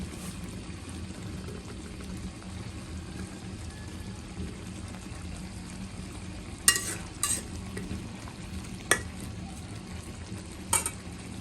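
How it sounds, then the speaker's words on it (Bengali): Chicken pieces with spices frying in a wok give a low, steady sizzle, broken late on by a few sharp scraping clinks of a spatula stirring against the pan. "একটু নেড়ে ছেড়ে দিব ভালোভাবে"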